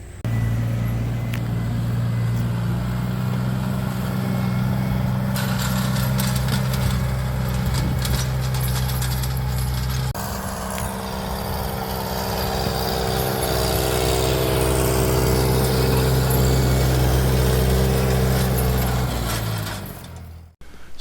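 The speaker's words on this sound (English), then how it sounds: "So I'm basically disking, chisel plowing it up" A tractor engine drones steadily and loudly while disking and chisel plowing a food plot cleared from tall weeds, its low rumble constant throughout with a brief shift in tone midway before cutting off at the end.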